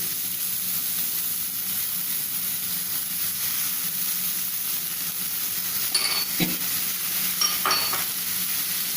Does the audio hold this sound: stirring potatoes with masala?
yes